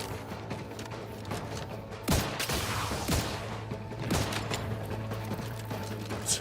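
Gunfire in The Outer Worlds 2: a few sharp shots ring out at intervals over a steady droning hum and mechanical clatter, fairly close, with no talking.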